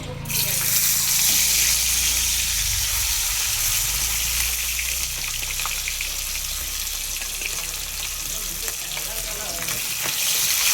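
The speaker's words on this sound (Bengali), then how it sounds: "মাছগুলো ভেজে নেব মাছগুলো ভাজা হয়ে গেছে" Tilapia fish frying in hot oil in a pan, a loud, steady broadband sizzle that continues throughout without a break, with faint scraping now and then.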